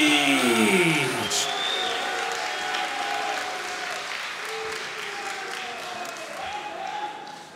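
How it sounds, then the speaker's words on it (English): An MMA crowd at an LFL10 event applauds fighter Benjamin Sehic, the Dragon of Bosnia: a dense wash of clapping rises under an amplified announcer's voice at the start, then holds steadily before easing slightly toward the end. "Ladies and gentlemen, your applause is for the Dragon of Bosnia,"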